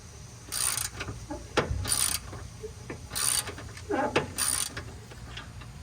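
A ratchet wrench works on the sway bar bushing bolts of a Mazda 3 in four quick, close bursts of clicking, with faint knocks and rubbing between them.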